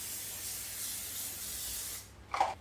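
A can of cooking spray hisses steadily onto a baking tray for about two seconds, a soft close airy spray, followed by a brief faint clatter.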